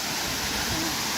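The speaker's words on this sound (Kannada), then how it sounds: "ವಾವ್ ನೋಡಿ ನೀವು ಯಾವ ಥರ ವಾಟರ್ ಫಾಲ್ಸ್ ಇದೆ." Waterfall in a leech-infested forest ravine: a steady, dense rush of falling water fills the air with broadband roar, heard alone without talk.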